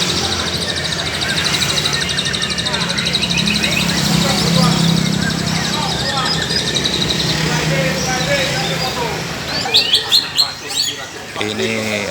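Murai hijau songbirds chirp and trill busily at a crowded bird-singing contest, a dense chorus of overlapping calls close by, with a burst of sharper, louder calls near the end.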